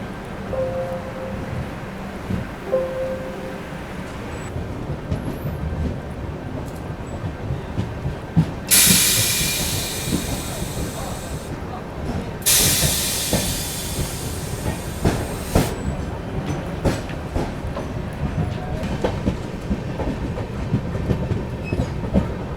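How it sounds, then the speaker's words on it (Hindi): Punjab Mail express train pulling out of Datia railway station, with steady rolling rumble and rail clatter throughout, two loud bursts of hissing air midway, and no speech. "चलिए दोस्तों, निकल चुकी है अपनी ट्रेन जो है दतिया रेलवे स्टेशन से।"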